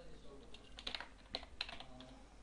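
Quiet keystrokes on a computer keyboard, a short burst of a few uneven taps and clicks at close range, with no voices.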